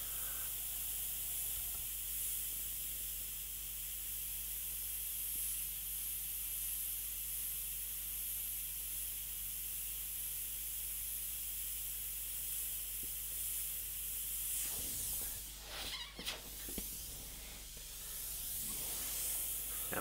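An airbrush sprays sepia paint while outlining the inner section of a Jack O' Lantern's eye, giving a steady, close hiss that runs almost unbroken, with a few brief bursts and clicks near the end and no talking.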